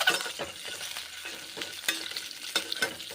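Eggs frying in hot mustard oil, a close crackling sizzle with repeated spatula scrapes and sharp pops spread through the stretch, no voices.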